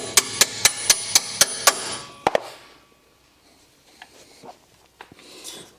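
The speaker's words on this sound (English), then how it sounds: "Hammer." Six evenly spaced sharp hammer strikes on metal while fitting adjustable lowering springs to a Nissan 350Z, followed by two more knocks and faint clinking in a quiet garage.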